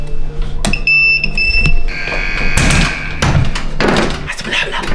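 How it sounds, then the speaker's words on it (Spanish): A fire alarm rings inside a prison during an escape game, its steady electronic tones sounding over clatter, bangs and excited shouting voices. "Alarma de incendios, alarma de incendios."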